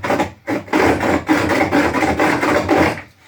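A narrow chisel scrapes along the bottom of a wooden dado cut with a circular saw, making a close, coarse rasping in a few bursts with brief pauses between strokes.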